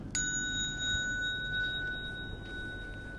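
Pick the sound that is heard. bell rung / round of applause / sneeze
bell rung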